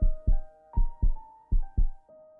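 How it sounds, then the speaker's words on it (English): A pounding heartbeat sound effect thumps in heavy double beats, lub-dub pairs repeating steadily and loud, with a low sustained hum beneath and no voices. "My heartbeat was still pounding in my ears."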